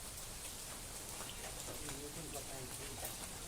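Steady rain pours down in a rural village, a dense even hiss filling the whole stretch without pause, with faint indistinct sounds beneath the downpour.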